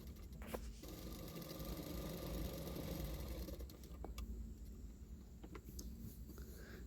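A sewing machine runs steadily while stitching a blouse, a close, continuous mechanical whir for about four seconds, then short stop-start bursts of stitching.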